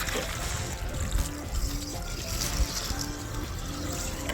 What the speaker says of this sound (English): get my water going.